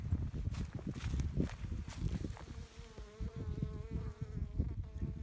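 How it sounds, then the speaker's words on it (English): Honey bees buzz steadily around an opened hive outdoors during a spring inspection, a close, continuous insect drone with a few faint footsteps and handling noises underneath. "We are outside, we are checking on the bees."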